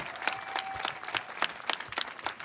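A comedy club audience claps for a stand-up act, a moderate patter of scattered hands with distinct individual claps, fairly faint and without voices.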